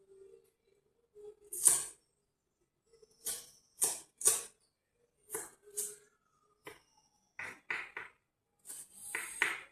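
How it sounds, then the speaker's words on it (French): An onion being cut with a knife, a series of sharp, separate chopping taps spaced irregularly over quiet, close and fairly soft. "Je suis en train de couper l'oignon."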